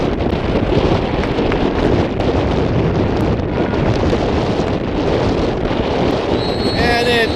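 Strong wind at an outdoor freshman football field buffets the microphone in a loud, continuous roar with gusty surges and rumbling, and a faint voice near the end.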